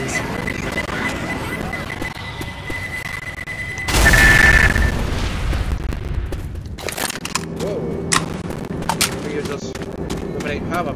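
A grenade blast bursts loudly and suddenly in Left 4 Dead, a broadband boom that decays over a couple of seconds amid ongoing game noise, followed by scattered sharp gunshot cracks and muffled voices.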